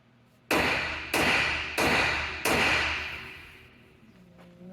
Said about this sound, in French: On va aller chercher un petit marteau, une masse.